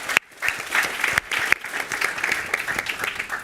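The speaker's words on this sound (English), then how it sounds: "Yes, we can clap for that" An audience claps at a policy talk on working families and the economy, with a dense patter of hands and a few sharp louder claps, steady and moderately near, with no one talking over it.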